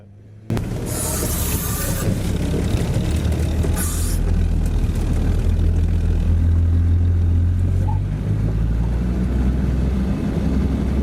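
A Toyota Land Cruiser 80 fitted with Unimog portal axles drives along a wide road, its engine a loud, steady close drone that holds throughout after a sudden start.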